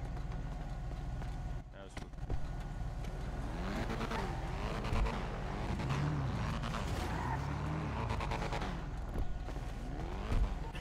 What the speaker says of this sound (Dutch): Ga ik heel even die auto al draaien,